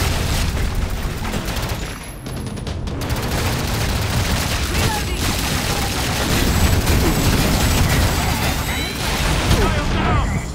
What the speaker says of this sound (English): Lay down some pressure fire.